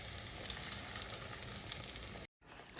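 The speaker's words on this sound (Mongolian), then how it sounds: "За дээрэс нөгөө өндгөө асгаад өгнө." Egg poured into hot oil in a frying pan while cooking pizza, a steady close crackling sizzle that holds without talk and cuts out briefly near the end.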